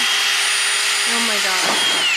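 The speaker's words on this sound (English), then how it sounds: "Just drilling holes in my car." A power drill whines steadily while boring holes into the body of a Nissan 350Z being prepared for drifting. The motor runs loud and close throughout, with its pitch shifting under load near the end.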